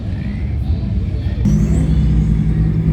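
A blue Lamborghini Revuelto supercar at a car show gives a loud, close, steady low engine rumble that swells partway through, with crowd noise around it.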